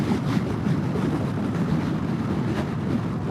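A Honda PCX150 scooter runs at full throttle into a headwind on a highway, its engine buried under a constant, loud roar of rushing wind on the microphone.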